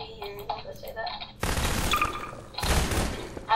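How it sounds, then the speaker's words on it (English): Quiet tones give way to two bursts of rapid gunfire in a Garry's Mod hide-and-seek game, each lasting about a second. "I hear gunshots."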